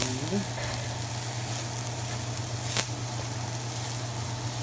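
Mushrooms frying in oil with salt give a steady, close sizzle over a low hum, with one brief sharp scrape or clink midway.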